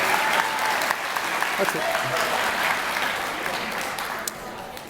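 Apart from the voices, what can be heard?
audience applause at school awards ceremony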